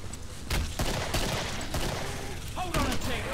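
Rapid bursts of gunfire from the Killing Floor video game, loud and close with dense repeated shots over mechanical clatter.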